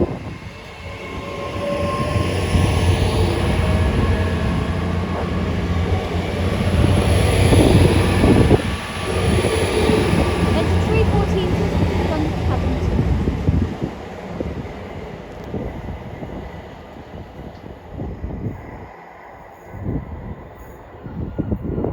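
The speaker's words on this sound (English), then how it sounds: "departing now is the major delayed 1456 Great Western Railway service to London Paddington from Swansea" A Great Western Railway class 800 train departs Bridgend station bound for London Paddington, a loud engine drone and rolling rumble that swells and fades, with wheel clatter and squeals as it pulls away.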